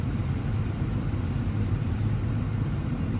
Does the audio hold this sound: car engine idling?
yes